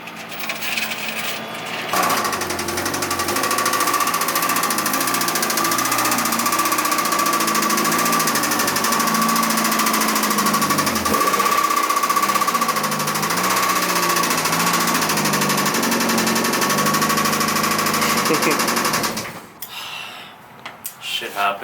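A Mazda Miata engine idles with a loud, rapid ticking fault, a steady mechanical rattle close by that runs for most of the stretch before cutting off near the end.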